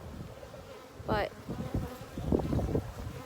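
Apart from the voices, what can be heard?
honeybees buzzing in an opened beehive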